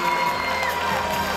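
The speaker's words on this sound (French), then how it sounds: "Applaudissements, Mesdames, Messieurs, pour Nicolas Boucher." Crowd cheering and applauding a prize winner at the 2012 Charles Proust competition award ceremony in Paris, a steady dense wash of noise with whoops, fairly loud throughout.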